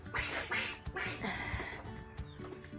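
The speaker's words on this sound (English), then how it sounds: "Look at the ducks." Ducks kept at a home quack in a short burst of several loud, close calls.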